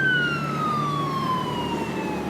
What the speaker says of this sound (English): here's your siren.